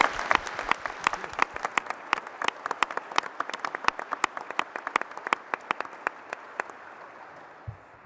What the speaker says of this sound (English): let's have a round of applause and thank our entire panel and also you